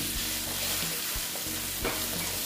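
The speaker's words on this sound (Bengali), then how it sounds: "তারপর দিচ্ছি নুন, দিয়ে অল্প আবার ভেজে নিচ্ছি" Spices with Kashmiri red chili powder and salt frying for a banana flower curry, a dense continuous sizzle in the pan with a few soft stirring knocks, close and alone.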